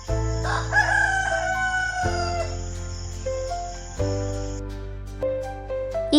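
A rooster crows close by with a loud cock-a-doodle-doo over background music.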